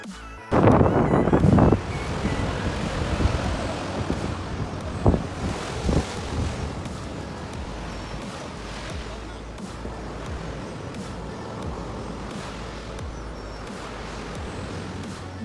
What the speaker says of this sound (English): listen to the gushing sound of water currents